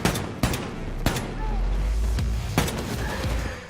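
Gunfire in the shooter game The New Colossus: several sharp, loud shots at irregular intervals over a steady rumbling game backdrop, alone with no talk.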